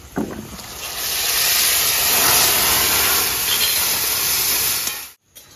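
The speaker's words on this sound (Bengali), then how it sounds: "ধাবাতে তো এইভাবে আগুনে একদম এমন ফ্রাই করে" Potatoes, onion and tomato paste frying hard in a kadai over a high dhaba-style flame give a loud, steady roaring hiss that builds, holds for several seconds, then cuts off abruptly.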